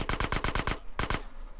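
Rapid automatic gunfire in GTA San Andreas: a fast burst of about seven close, loud shots, a brief pause, then two more quick shots fading into the background.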